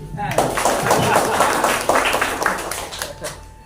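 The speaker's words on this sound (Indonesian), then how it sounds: "Kita berikan aplaus." An audience at a parish recollection gathering claps together, a dense patter of applause running for several seconds and tapering off near the end, with a voice speaking underneath.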